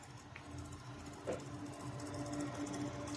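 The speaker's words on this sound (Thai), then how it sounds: "นี่ก็พัดลมก็เสียงดังนะ" A Dell PowerEdge T130 server's cooling fan whirs loudly and steadily throughout. The sound is a continuous, slightly buzzing mechanical hum with a faint rattle, recorded close up, and no one speaks.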